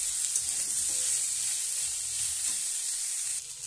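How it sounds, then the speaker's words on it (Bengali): Chopped onions sizzle in a hot pan while being stirred, a steady close hiss of frying with soft scraping of the spoon underneath. "এর মধ্যেই আমি পেঁয়াজ কুচানাগুলো তুলে দিচ্ছি। ভালো করে নেড়ে নিচ্ছি।"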